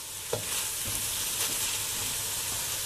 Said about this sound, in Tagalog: medyo iba-brown natin yung chicken natin